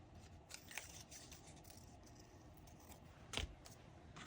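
Scissors snip paper for a journal page in a quiet room, a few faint, brief cuts with a sharper crunching snip near the end.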